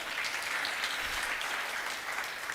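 An audience at a women's business incubation graduation ceremony claps continuously, a dense, even wash of many hands at moderate volume that holds steady throughout.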